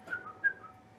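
A person imitates a whistle with two short, faint whistled notes, the second slightly louder, inside a quiet old hall during a night-time ghost investigation.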